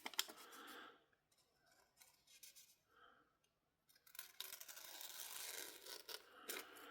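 A freshly sharpened slipjoint pocketknife blade slices through paper in short crisp rasping strokes, with a quiet pause mid-clip before a longer, louder run of cutting.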